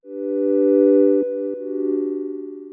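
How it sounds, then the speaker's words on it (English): Synthesizer sine wave from oscillator A sounds as a clean, sustained tone, first steady, then briefly broken by clicks before it picks up a rhythmic pulsing wobble. "let's add a sine wave using our oscillator A."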